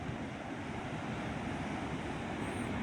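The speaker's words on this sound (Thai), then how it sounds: "นี่เป็นทะเลหาด" Sea waves wash steadily onto a beach below a seaside hilltop, a continuous broad surf roar mixed with wind buffeting the microphone, with no breaks or talk.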